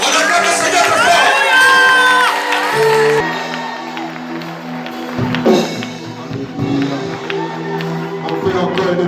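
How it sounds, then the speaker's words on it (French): Worshippers at a church service on the final day of a fourteen-day fast and prayer loudly cheer, whoop and shout praise together, a dense sustained roar mixed with music throughout. "On acclame le Seigneur très fort."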